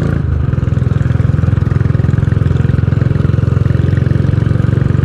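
Royal Enfield motorcycle ridden on a ridge road, a loud, close, steady engine thump with a rapid regular pulse and a faint rev change at the start, no talking.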